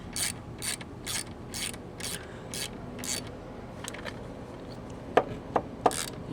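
Ratchet wrench tightening the exhaust pipe bolts on a 2025 Harley-Davidson Lowrider S, a series of quick close clicking strokes followed by a few sharper metallic knocks, no talk.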